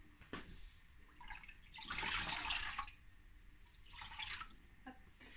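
Water runs and splashes in bursts as a heavy-duty cleaning cloth is soaked, with drips in between and two louder gushes, close and fairly quiet.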